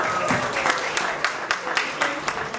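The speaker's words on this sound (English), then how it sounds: "give a really strong, great clap for him" Audience at a city council campaign event claps together, a dense patter of hand claps with sharper individual slaps standing out, moderately loud and steady throughout.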